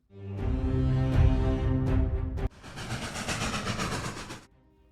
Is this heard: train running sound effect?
yes